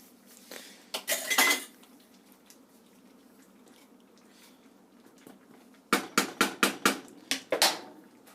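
Metal spoon clinking and scraping against a pot while butter is stirred into pea soup, in two bursts of rapid knocks separated by quiet simmering.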